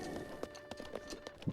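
A horse trots in Zelda: Breath of the Wild with a faint, regular clip-clop of hooves. The steps fall evenly under a soft game background, with no one talking.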